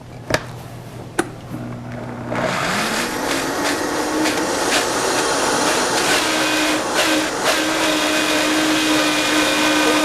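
A few sharp clicks, then a blender whirs to life blending chocolate frosting and runs steadily, a loud continuous grinding drone that holds until the end.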